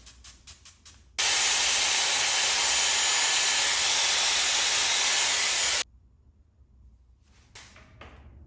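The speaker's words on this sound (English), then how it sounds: "Pulled out my Dyson Airwrap. I'm gonna use this to put some curl and some shape to these" A Dyson Airwrap hair styler roars with a loud, steady hiss of blown air for about four and a half seconds. It starts and stops abruptly, with quick clicks and rustling before and after.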